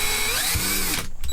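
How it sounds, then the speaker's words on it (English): A tiny drill bit whirs through a short pilot hole in an RV shower door fitting, a single close, loud burst of about one second that winds down at the end. "I'm going to use a tiny drill bit to just kind of give myself a little bit of a pilot hole going in here"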